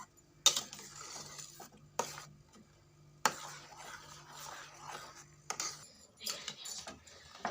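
A spoon stirs tomato and date chutney in a pot, making quiet intermittent scrapes and a few sharp clinks against the metal, with near-silent gaps between strokes.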